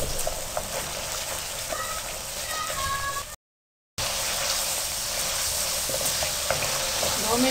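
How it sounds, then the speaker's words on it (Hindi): Masala for a potato, carrot and pea curry fries and is stirred in a pan, giving a steady close sizzle that briefly cuts out midway and then carries on. "अब आपने 2 मिनट के लिए इसको भून लेना है।"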